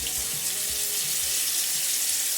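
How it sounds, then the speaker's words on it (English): Cold tap water runs steadily into a sink, a constant close hiss while a safety razor is rinsed under it, with faint low knocks underneath. "You rinse that off with some cold water."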